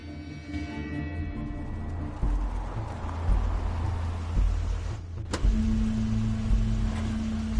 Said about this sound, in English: Crane's car.